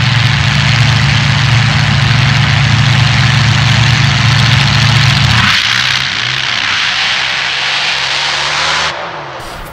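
Supercharged Hemi drag racing engines, including a screw-blown 527 billet-block race engine, roar side by side on a dirt drag strip, a loud steady low drone that shifts pitch and then cuts away.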